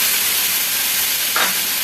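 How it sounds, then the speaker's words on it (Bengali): Tamarind water goes into hot oil with fried mustard seeds, setting off a loud continuous sizzle and hiss, with a brief brighter burst of spitting near the end; no voices. "এবারে এর মধ্যে আমি আমার তেঁতুল জলটা দিয়ে দিলাম"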